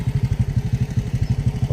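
A motorcycle engine on a steep road chugs at low revs, a rapid, even thumping pulse heard up close with no voices.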